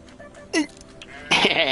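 Sheep bleating in the video game Grow Home: a short, wavering bleat, then a louder, longer, harsher bleat close up, with quiet game ambience between them.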